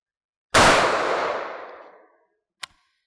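A single 5.56mm M193 rifle round fired into a wooden wall from about five yards, one sharp loud blast with a long decaying echo, followed by a faint brief click.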